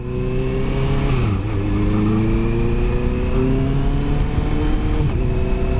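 A loud Honda CBR650 motorcycle engine revs and drops in pitch, with a deep throaty exhaust rumble that holds steady throughout.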